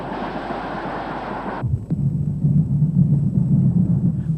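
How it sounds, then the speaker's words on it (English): An LMS 4F steam locomotive hauls a freight train past on British track. A hissing wash cuts off abruptly, leaving a low, steady rumble of rolling wagons close by. "As it passes southbound, this 4F passes north on a freight."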